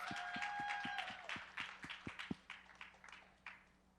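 An audience applauds a young speaker at a youth event, with a short run of separate, fairly distinct claps that thin out and fade. Little crowd noise accompanies them, and the claps stay moderately quiet.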